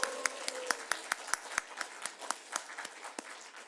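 Sparse, slightly irregular clapping from a church congregation during a Korean worship service, a dozen or so distinct sharp claps spread over a few seconds over a quiet room tone, with faint voices underneath.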